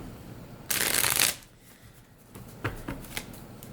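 Tarot cards shuffled in a quick, crisp riffle lasting about half a second, then a few soft taps and flicks as the deck is squared, close and fairly quiet.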